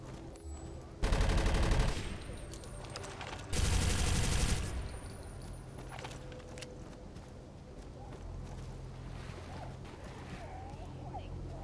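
Gunfire in the Avatar video game comes as two loud automatic-weapon bursts about a second long each, then fades into quieter ambient game sounds and faint chatter.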